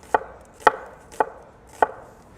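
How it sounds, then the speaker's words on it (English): A knife shaving red onion into very thin slices on a cutting board, four crisp, evenly spaced chops close up with quiet pauses between, no talking. "got some red onion. I'm gonna shave this really thin"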